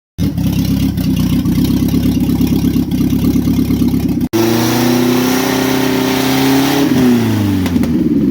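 A Nissan truck's rebuilt four-cylinder engine is held at a loud, buzzing redline. It briefly cuts out, then roars back with a shifting, sweeping drone that dips near the end, close to the mic, with no talk.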